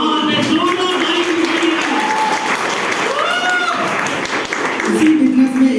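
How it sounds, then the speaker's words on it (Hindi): An audience at a motivational business talk breaks into loud, sustained applause, with dense clapping throughout and a voice speaking over it. "जोरदार ताली"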